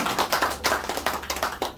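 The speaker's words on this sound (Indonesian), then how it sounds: "Boleh tepuk tangan lagi sekarang buat saya." Audience at a health product presentation claps in short, uneven bursts, close and fairly loud, with a few distinct hand slaps standing out over the brief applause.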